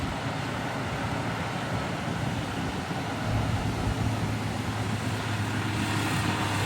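A motor grader mixing soil on a four-lane road-widening job in Trang rounds a curve with a continuous engine rumble that swells slightly as it draws nearer, alongside a steady broadband roar.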